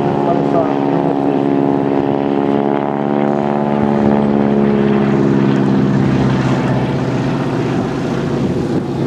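A propeller aircraft flies at an air show in Plzeň, its steady droning engine tone holding loud and close for the whole stretch while a commentator talks over it.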